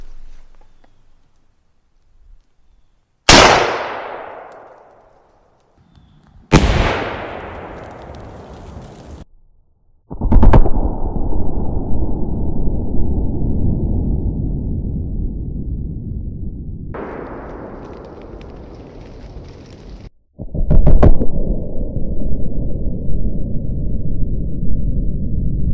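Several sharp gunshot-like blasts from an AK rifle fired at a bulletproof helmet outdoors, each followed by a long decaying roar, with later sustained rushing fire-like noise.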